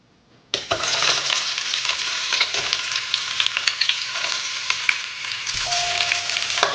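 Onion frying in a pot, a sudden loud sizzle as it hits hot oil, then continuous crackling with scraping stirs against the pot, close and alone.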